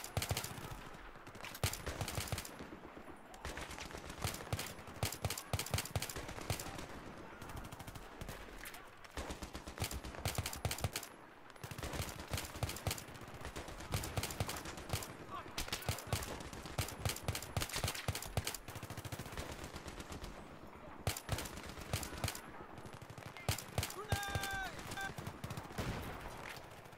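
Heavy Battlefield 3 gunfire during the Rock And A Hard Place mission, loud sustained automatic bursts and single shots nearly nonstop, with brief lulls and some voices under the shooting.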